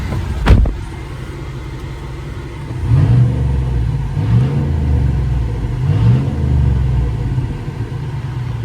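Inside the cab of a Chevrolet Silverado Trail Boss Z71 fitted with a bolt-on Flowmaster muffler, a sharp starter crank catches and the engine settles into a deep idle, then blips into three loud revs that rise and fall at steady intervals.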